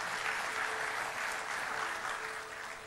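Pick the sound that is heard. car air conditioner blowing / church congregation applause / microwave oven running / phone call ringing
church congregation applause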